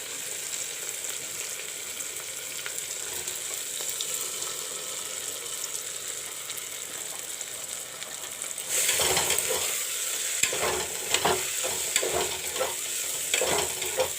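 Moong dal frying in a pan with tomato and onions, a steady sizzle that grows louder and busier partway through as stirring adds irregular scrapes and clinks, close up and without voices.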